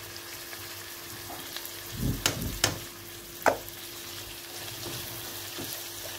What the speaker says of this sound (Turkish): Hemen ardından doğramış olduğum sivri biberi de ilave ediyorum.